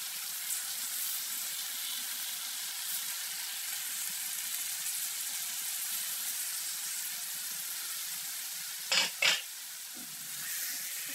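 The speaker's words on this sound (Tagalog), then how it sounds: "Ilagay na natin ating munggo." Mung beans going into a pot with pork, giving a steady even sizzle throughout, with a couple of brief clanks of a spoon or lid near the end and no talk.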